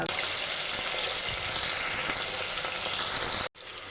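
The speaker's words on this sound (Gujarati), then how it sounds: "પાપડીને આવી રીતે તેલમાં થોડી વાર સાતળી લઈશું" Papdi beans frying in hot oil for undhiyu give a dense, loud, continuous sizzle up close, cutting off abruptly near the end before resuming more quietly.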